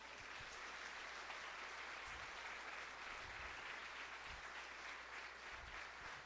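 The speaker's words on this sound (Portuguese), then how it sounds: "Dê um aplauso para o Senhor Jesus." A church congregation applauding, a dense, even wash of many hands clapping at once, sustained and distant-sounding, with no speech over it.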